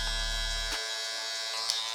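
Barber's electric hair clippers buzzing steadily up close while fading hair, with the low hum cutting out partway through as the blades tap the head, leaving a thinner high whine and a light tap near the end.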